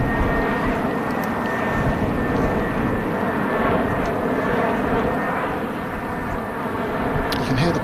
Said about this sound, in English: You can hear the planes coming into Dublin Airport, not far from here.